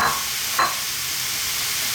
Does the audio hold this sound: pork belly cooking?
yes